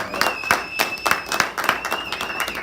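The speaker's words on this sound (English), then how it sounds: "Bill Powers, give him a round of applause." Scattered clapping from a small audience for Bill Powers at a talk by a cancer survivor, a handful of distinct claps with a steady tone running beneath.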